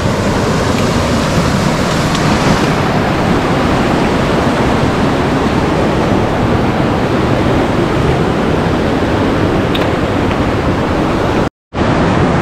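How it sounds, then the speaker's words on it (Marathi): Kshirdhara waterfall at Channat pours with a loud, steady roar of rushing water that fills the whole stretch without a break, apart from a brief dropout near the end; no one speaks. "आपला धबधबा तिथे आहे समोर"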